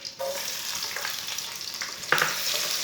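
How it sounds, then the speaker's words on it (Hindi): Finely chopped onion sizzles in half a cup of hot oil with whole cumin and coriander seeds, a steady close crackling fry that runs throughout, with a brief stirring scrape near the end. "आधा कप ऑयल, 1 चमची साबुत ज़ीरा, 1 चमची साबुत धनिया, 1 ब्रीक कटा हुआ प्याज डाल लेंगे।"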